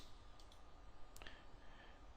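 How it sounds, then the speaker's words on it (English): A computer mouse clicks on downloads, two or three faint close clicks over a low steady background hiss. "it's just a case of clicking on each of these downloads"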